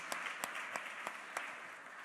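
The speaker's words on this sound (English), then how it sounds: "a round of applause for Ethan and Deborah" A crowd at a Fixate Phx stage event applauds for two speakers, giving a short, even wash of clapping with a few sharper claps standing out, steady and moderately loud.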